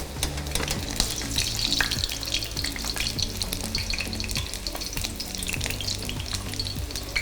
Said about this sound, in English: fried madungo dumpling would be completed